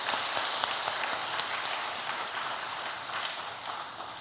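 A church congregation applauds one another, a dense, even wash of many hands clapping at moderate distance for several seconds, fading slightly toward the end.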